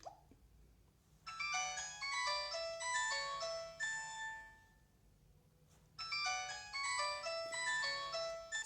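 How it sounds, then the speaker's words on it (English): A classic Nokia ringtone from a Nokia 105 phone plays its bright electronic melody twice, with a short quiet gap between the two phrases, clear and close. "let's quickly go to settings and hear that ringtone of Nokia"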